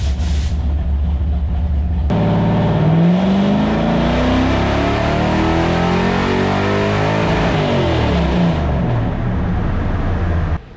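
A C4 Corvette engine with a Holley Terminator X cold-starts with a sudden loud crank and catch, then revs in a rising, wavering sweep before settling into a rough, steady idle, close and loud.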